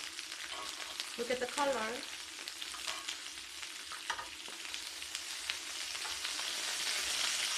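Strips of pork belly samgyupsal grilling at home for Korean barbecue, sizzling steadily with scraping and clatter as the slices are turned, while a voice speaks briefly over the crackle.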